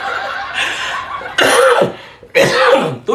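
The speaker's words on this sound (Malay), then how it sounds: "saya batuk sikit malam ni." Several loud, close coughs in quick bursts from one person, separated by short pauses, with no talk between them.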